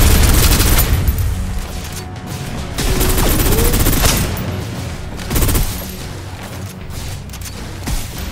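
Sustained suppressive gunfire in the shooter game Snowbreak: Containment Zone, with dense overlapping bursts, booms and loud rattling volleys throughout, surging and easing in waves against a busy combat background.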